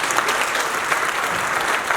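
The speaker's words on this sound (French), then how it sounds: "Veuillez applaudir, s'il vous plaît." An audience at a wedding ceremony applauds, a dense, steady clapping that fills the space without a break and carries no voices.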